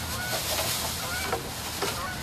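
A goose honks a few times in short bursts over a steady background rumble, moderately close.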